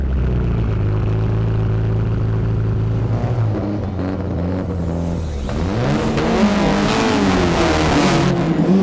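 A WRC rally car driven by Nicky Grist on the Goodwood stage drones loudly from onboard. The engine's steady tone bends as he comes off the throttle, with anti-lag crackle breaking up the exhaust note near the end.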